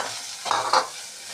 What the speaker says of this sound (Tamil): அதையும் போட்டு நல்லா வதக்கணும்